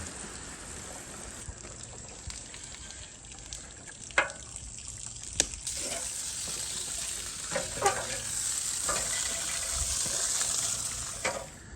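A garden hose with a poor nozzle end sprays water over a freshly cleaned concrete surface during an algae wash, a steady close hiss of splashing water with a few brief sharper bursts.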